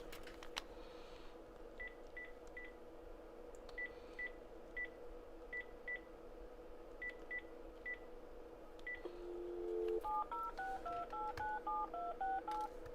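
A telephone dials a string of short, evenly spaced tones, then breaks into a quick run of higher beeps. The sound is faint and sits over a steady low hum in a workshop.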